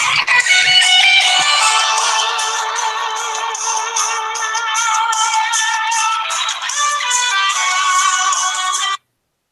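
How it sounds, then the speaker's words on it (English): A mobile phone ringtone plays loud and close, a bright repeating melody running for about nine seconds before cutting off abruptly. "That's my phone."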